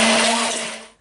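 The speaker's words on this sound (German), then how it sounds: "Und das püriere ich jetzt mit dem Pürierstab." A hand blender purees olive oil with salt and pepper, a loud, steady high whirring drone that holds for about a second and then winds down as it switches off.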